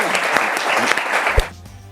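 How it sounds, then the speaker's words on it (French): Studio audience applause on a French football television show, a dense burst of clapping that runs loud for over a second, then cuts off abruptly into a quieter background. "on peut l'applaudir"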